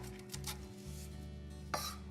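A knife chops on a cutting board in a kitchen as food is finely diced, quiet scrapes and light taps with a sharper cut near the end, over a steady low hum.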